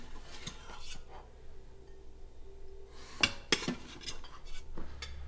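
A utensil scoops cooked brown rice from an Instant Pot pot, with soft scraping followed by a couple of sharp metallic clinks against the inner pot, quiet and close.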